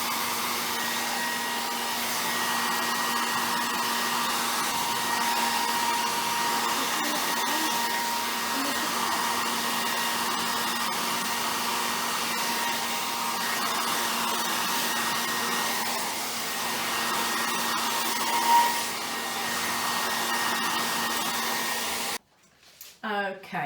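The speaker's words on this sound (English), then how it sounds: "I'm going to be blow drying the hair completely dry." Hair dryer blowing hair completely dry during a Brazilian keratin straightening treatment, a loud steady whooshing roar held close for over twenty seconds that cuts off abruptly near the end.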